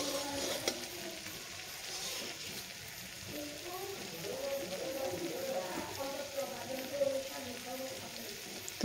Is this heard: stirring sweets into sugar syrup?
yes